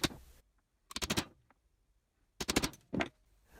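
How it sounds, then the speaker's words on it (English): A hammer strikes a metal punch to mark drill points on a truck cap rear door hinge, sounding as sharp, close metallic taps in short bursts of several quick hits separated by silent pauses. "Using the hammer and punch again, I'm giving a tap to each new hole to be drilled."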